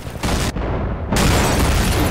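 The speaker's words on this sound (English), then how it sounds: "The explosions are kind of good though" Explosions in the Half-Life 2 Overcharged mod roar in dense, loud, booming bursts, with a brief dip before a second heavier blast that rumbles on.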